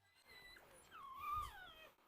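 A dog, likely a Cane Corso or Dogo Argentino, whimpering in a thin, rising and falling high-pitched whine, close but quiet, lasting about a second.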